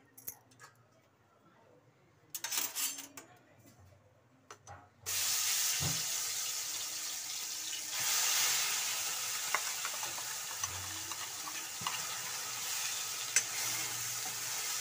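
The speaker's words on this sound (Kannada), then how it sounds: "ಸ್ವಲ್ಪ ಫ್ರೈ ಮಾಡ್ಕೊಳ್ಳಿ ಎಣ್ಣೆಯಲ್ಲಿ" Chicken pieces drop into hot oil and burst into a loud, steady sizzle after a few quiet stirring clatters. The frying hiss keeps going with occasional pops and spoon stirs.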